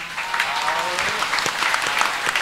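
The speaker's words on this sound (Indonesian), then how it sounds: "Wah, tepuk tangan dalang putut." Steady applause from a religious lecture audience in Indonesia, a dense continuous patter of many hands clapping at fairly close range, with no talk over it.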